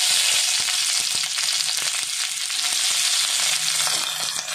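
Small onions, shallots, frying in hot oil in a cheenachatti, a steady dense sizzle running throughout with a few faint clicks, close and loud with no voices.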